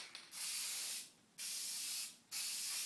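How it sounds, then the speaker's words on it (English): Aerosol spray paint hisses in three long, steady bursts with short pauses between, close and loud, as paint is applied to a 1970 Ford Mustang floor console during restoration. "Try not to spray in one single spot, because of course the paint will build up and layer."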